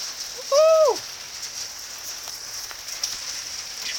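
Rain falling outdoors on a wet day, a soft steady hiss of drops with a brief whistle-like call near the start, no talking.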